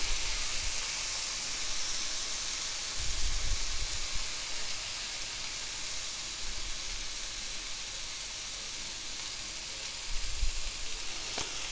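Roast beef searing in a hot pan, a constant bright sizzle and hiss of frying fat with a few soft thuds as the meat is turned to brown every side, no talking.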